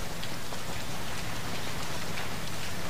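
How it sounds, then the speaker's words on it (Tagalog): Heavy rain lashing down with strong wind during a storm in Dinalungan, Aurora province, a dense unbroken roar that stays constant and loud for the whole stretch with no voices. "Dante, malakas na hangin at malakas na buhos ng ulan ang nararanasan ngayon dyan"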